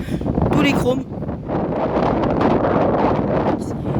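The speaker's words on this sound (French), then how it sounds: "Désolé pour le vent, il y en a beaucoup." Strong wind buffets the microphone outdoors at a seaside car-spotting spot in La Baule, heavy rumbling gusts that partly cover someone speaking French.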